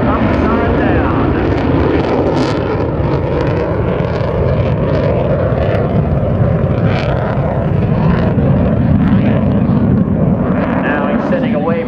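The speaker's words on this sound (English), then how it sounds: "D are setting up for a high-speed pass in the F-18 Hornet" An F/A-18F Super Hornet jet at an airshow roars in a loud, sustained rumble that swells and shifts as it passes, while an announcer talks over it throughout.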